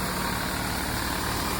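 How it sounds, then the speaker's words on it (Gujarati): A Sonalika tractor engine drives a thresher separating pigeon pea on a farm, a steady low rumbling drone that holds constant and close throughout with no break. "સોનાલિકાનું ટ્રેક્ટર છે, ટ્રેક્ટર ઉપર હાલે."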